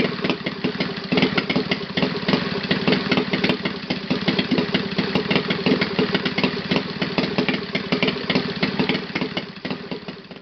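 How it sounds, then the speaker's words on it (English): A Saito FA 270T model aircraft engine idles steadily without glow support, firing a little unevenly in a continuous close, loud rattling drone for the whole stretch. "But it is very good idle without glow support."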